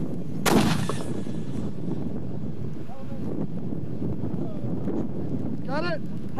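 A mortar fires once with a loud, sharp outdoor boom near a creek, followed by wind buffeting the microphone and faint voices in the background.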